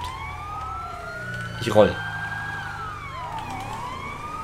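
A police car siren wails in GTA 5, rising and falling in a steady electronic sweep under someone speaking German, with a brief louder burst midway as he talks.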